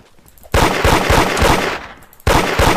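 Loud, close bursts of rapid automatic gunfire from a raiding video game, one long sustained volley followed by a second burst starting at the end.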